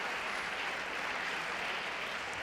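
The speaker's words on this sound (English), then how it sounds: "Look at this crowd appreciating some real quality tonight" Crowd applauding at a women's squash semifinal match, a steady, even wash of clapping from the stands that sounds somewhat distant and continues throughout.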